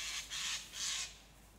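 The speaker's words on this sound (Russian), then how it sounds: "Скворец." A starling gives two short, harsh squawking calls with a brief gap between them, faint and somewhat distant in a quiet outdoor setting.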